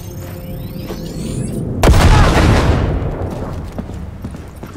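A grenade detonates in the Cyberpunk 2077 video game, one loud broadband blast that rises suddenly over game noise and then fades into a long rumbling tail.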